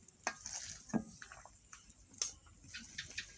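A utensil scrapes and clinks as it stirs softened potato and paneer in a frying pan, with scattered sharp taps and a faint sizzle, close and quiet with no talking.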